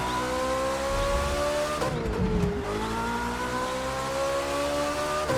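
Hypercar engines roar in The Crew 2 racing game on rough asphalt through deep woods, a loud sustained high whine that dips and climbs again as gears shift, with tire squeal in the middle.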